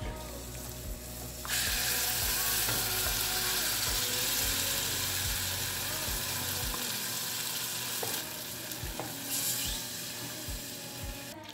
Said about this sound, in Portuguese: e refogo o feijão aqui.